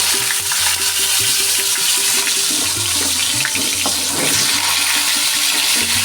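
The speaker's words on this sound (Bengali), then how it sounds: "এই তেলে এখন আমি পটল ভেজে নেব" Pointed gourd frying in oil in a wok, a loud, dense hiss of sizzling oil that runs unbroken from start to finish, with a low steady hum beneath it.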